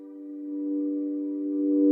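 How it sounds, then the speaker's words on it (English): A sustained synth chord fed back through a hybrid reverb with a shimmer algorithm, steady stacked tones that swell gradually louder, heard alone. "I'm then going to send that into a hybrid reverb with the shimmer algorithm."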